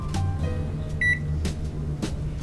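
Several short electronic beeps from a microwave keypad, one clear tone standing out, with soft taps of button presses in a quiet room.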